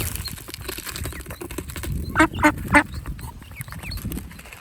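Several ducks, ducklings and adults, feed at a mini zoo, giving three quick nasal quacks over a low, steady background murmur.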